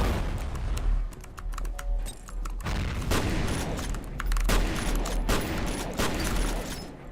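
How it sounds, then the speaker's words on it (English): Grenades exploding in the F.E.A.R. video game, a dense barrage of sharp blasts and rapid shot-like cracks, with deep booms recurring every second or so throughout. "time to send all of these grenades downrange"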